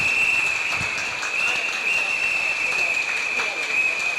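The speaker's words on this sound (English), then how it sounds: "Give him a round of applause, please, Mr. Lim Tean." Audience applause for speaker Lim Tean at the United We Stand For Choice 2022 event: steady, dense clapping from a crowd filling the whole stretch at even loudness, with a faint voice in the background.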